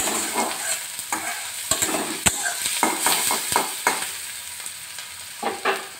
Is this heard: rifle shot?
no